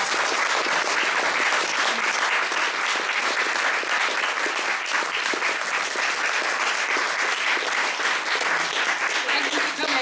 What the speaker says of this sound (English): let's, a big round of applause.